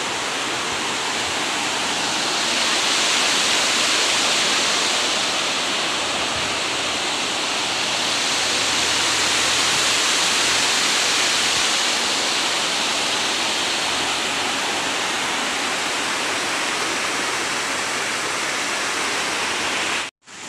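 Water rushes at the KRS dam on the Kaveri by Brindavan Gardens in Mysore, a loud, unbroken roar of flowing water lasting the whole stretch before cutting off abruptly at the end, with no voices.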